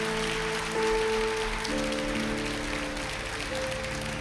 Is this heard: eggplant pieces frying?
no